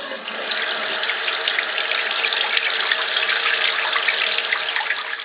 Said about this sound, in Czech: vložíme ho pod kohoutek a pustíme vodu